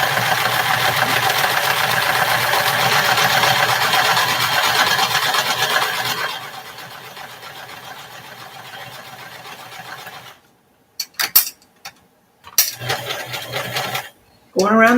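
A sewing machine stitches a heart-shaped pillow pincushion with a close, steady whirring hum for about six seconds. It then runs softer, stops and restarts in short bursts while the fabric is turned around a curve.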